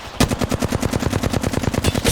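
Rapid automatic gunfire from Apex Legends rattles in an even, fast burst of closely spaced loud shots lasting about two seconds, with no voices.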